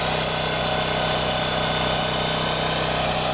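A Champion portable generator running under load produces a steady, loud engine drone with a mechanical hum and no noticeable surging, heard alone and unbroken throughout.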